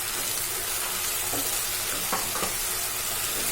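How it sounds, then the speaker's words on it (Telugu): Gongura leaves fry on a low flame, giving a soft even sizzle with a couple of brief stirring scrapes, close and steady, with no talking. "సో గోంగూర సిమ్లో పెట్టి వేయించుకోండి"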